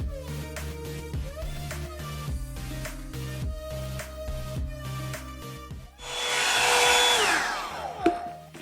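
Broadband airy hiss from a HOT TOOLS detachable brush hair dryer drying hair rises strongly near the end, steady and close for about two seconds after a stretch of music.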